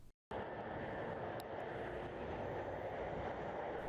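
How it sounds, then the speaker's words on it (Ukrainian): A military airplane landing near Rzeszów airport in Poland gives a steady, loud, broadband roar that holds evenly for about four seconds after a brief silent gap at the start, with no voices. "Ще одна успішна посадка."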